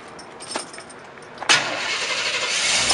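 A 1989 GMC Sierra fire department rescue truck with a 350 engine cranks briefly, then starts up and settles into a loud, steady rumbling idle close by.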